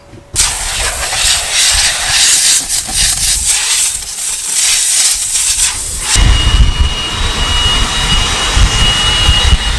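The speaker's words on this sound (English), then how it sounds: "Before we hook up, I'm gonna blow off the radiator. It's pretty dirty." Compressed air blasts dust off a dirty combine radiator: a loud, continuous roaring hiss with fluctuating bursts, shifting to a deeper rushing tone partway through, close and without talk.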